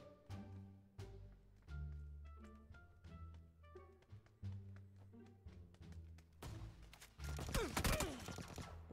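Gunfire in the mobile battle royale PUBG New State comes as a burst of rapid shots near the end, after a stretch of game music with tonal notes and soft taps.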